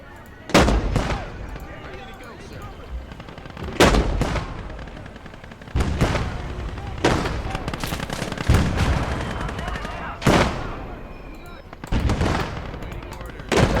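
Gunfire in a WWII battle video game: a continuous rattle of small-arms fire broken by about six heavy, booming bursts at irregular intervals, sounding moderately distant.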